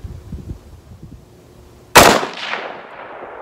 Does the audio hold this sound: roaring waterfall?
no